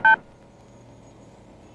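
A single short telephone keypad dialing tone sounds loud and close at the very start, then gives way to a faint steady background hum with no talking.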